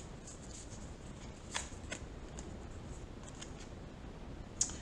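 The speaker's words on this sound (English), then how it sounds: "I'm gonna pull two oracle cards, one from the Divine Feminine Oracle" Oracle cards are shuffled by hand in a soft, continuous flutter of riffles and light taps, close and fairly quiet, with one sharper click at the end.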